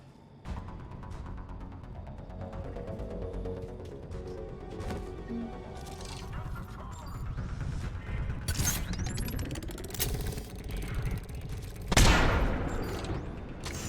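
Charging gun firing in Mass Effect 3, a mechanical whirring build-up with ratcheting clicks, then a sharp loud burst near the end, with no speech.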